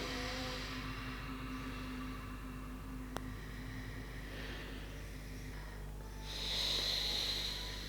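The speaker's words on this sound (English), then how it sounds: "Now take a moment to go within as you follow yourself, consciously breathing alternately." Slow, airy alternate-nostril breathing during a guided yoga session, with soft, drawn-out nasal breaths over a low steady background hiss and a brief click midway, without talk.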